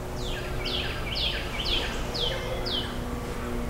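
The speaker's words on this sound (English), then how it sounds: "I hear the birds chirping today." Birds chirp outdoors beside a screened patio porch overlooking a yard in Greenville, SC: about six bright, sweeping chirps repeat at an even pace, fairly close, over a low steady background hum.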